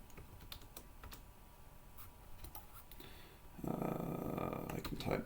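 Someone types a few words on a computer keyboard, light clicks spread across a quiet room, and then a louder broadband noise sweeps in near the end.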